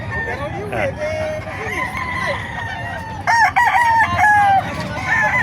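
Roosters crow repeatedly amid clucking chickens at a bustling chicken market in Bocaue, Bulacan, with overlapping calls near and far over a low crowd murmur and voices.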